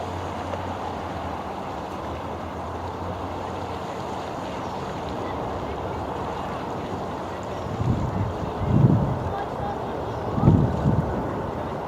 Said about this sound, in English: boat 12 already picking up speed.